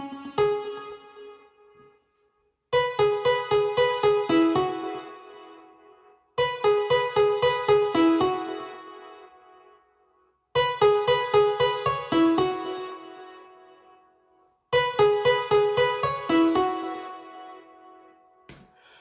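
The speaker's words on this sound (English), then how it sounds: "the first sound that I tried to come up with was obviously" A bright synth riff for a remix of a film song plays in four repeating phrases, each a run of rhythmic stabbed notes that decays before the next loop starts, with no voices.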